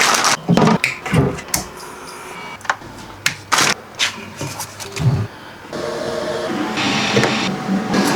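A 3D printer runs a print of wings for a large radio-control VTOL aircraft, giving close, loud stepper-motor whirs and buzzes in short bursts that settle into a steady droning hum.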